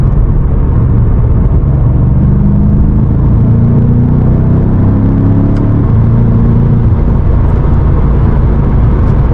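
A BMW M5 Competition on a late-night road drive pulls hard after a downshift, its engine a loud, continuous low rumble with rising tones as it accelerates, heard alone without talk.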